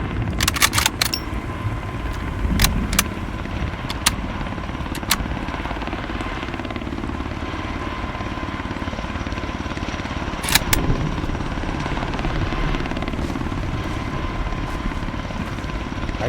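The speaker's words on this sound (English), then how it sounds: "I don't think this chopper shoots at you either." Helicopter in the game Road to Vostok circling overhead, a steady loud rotor drone that fills the whole stretch, with a few sharp clicks and metallic knocks scattered over it.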